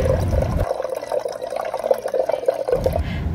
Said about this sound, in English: And then you're gonna add your water.